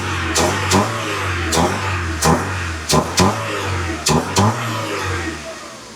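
An M111-swapped Mercedes 190E engine idles close by with a steady low rumble, broken by a series of short, sharp blips of the throttle that rise and fall at irregular intervals.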